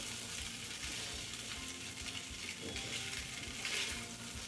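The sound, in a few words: sautéing sago khichdi in a pan over low-medium flame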